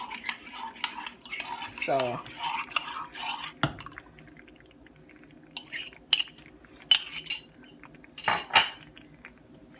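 Spoon clinking and scraping in a pot while cornmeal porridge with coconut milk is mixed, close and fairly quiet, in short uneven bursts with a brief spoken word.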